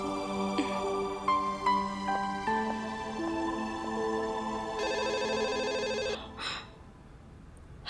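A telephone rings out while a call is being placed in a TV drama, with repeated electronic ringing tones stepping through a pattern before a final click.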